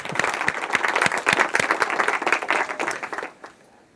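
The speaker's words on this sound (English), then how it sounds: "I think a round of applause there." A small audience at a business presentation on underwriting claps for about three seconds with distinct, closely spaced handclaps, then the applause quickly dies away into quiet.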